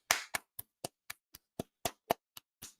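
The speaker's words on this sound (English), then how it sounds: "Round of applause." A single person claps about eleven times at a steady, slightly uneven pace, each clap sharp, close and loud, alone with no voices, at a live show wrapping up a discussion of a wrestling broadcast.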